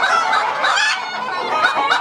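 Golden Hasari fighter rooster clucking and calling in rapid, dense bursts, close and loud, sometimes several birds overlapping, with no talk over it.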